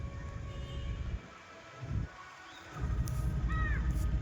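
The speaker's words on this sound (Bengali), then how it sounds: "O guys, here is coming train." A train rumbles along a railway, loud and close at first, easing briefly before the roar returns. Crows caw overhead near the end.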